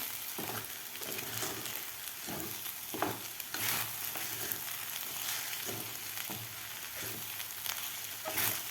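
Sabudana mixed with jaggery is sautéed in a pan, giving a soft, steady frying crackle with repeated spatula scrapes and stirs, quiet and close with no voices.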